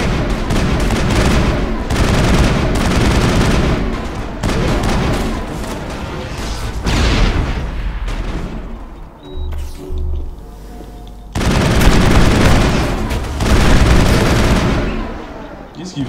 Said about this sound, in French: Appuyez à nouveau sur R pour enclencher la détonation